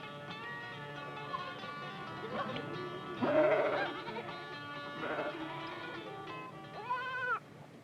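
Sheep in a New Zealand flock, bunched tightly while being herded, bleating several times in overlapping calls of varied pitch, fairly close, with a final drawn-out bleat near the end.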